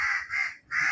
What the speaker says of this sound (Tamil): மரத்துக்கு அடியில் வந்தோடனே அதுக்கு நேர் மேலே ஒரு காக்கா இருக்குது.